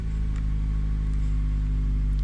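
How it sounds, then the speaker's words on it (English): A 1991 Honda Prelude Si engine runs steadily close by, its revs settling from a high idle toward a lower idle as a continuous low rumble with a faint hiss over it. "There we go, now the revs fall finally."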